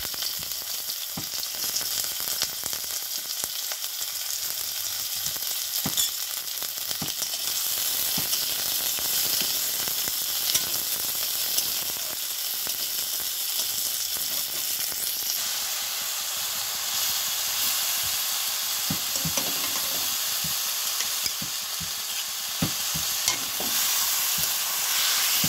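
Boiled vegetables sizzle and hiss steadily in hot oil in a kadai, with occasional scraping stirs breaking through the constant frying noise.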